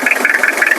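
Brief moment of a 1992 Toyota Mighty-X pickup truck engine idling with a steady rhythmic pulsing hum, close by, no voices.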